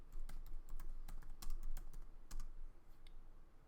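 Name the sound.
typing on a computer keyboard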